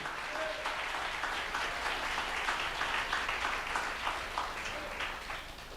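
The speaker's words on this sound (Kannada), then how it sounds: "You need to clap better than this." Church congregation applauding during a sermon, a steady wash of many hands clapping at once, loud and sustained throughout with no pauses.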